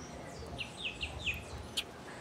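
Several short, bright bird chirps sound in quick succession, faint and somewhat distant, over a soft background hush at a nature park on Tobago.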